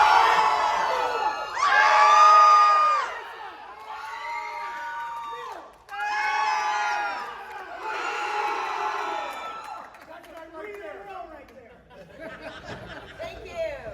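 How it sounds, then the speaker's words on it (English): A convention panel audience for the horror film Terrifier cheers and whoops in several loud bursts, with shouting and chatter between swells, then fading into quieter crowd murmur near the end. "Make them cheer for you guys."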